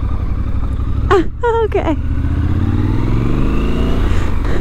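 Triumph Scrambler 1200 XC motorcycle ridden on the road, its engine a steady close rumbling drone with a gradual rise in pitch as it accelerates. A brief spoken word cuts in early.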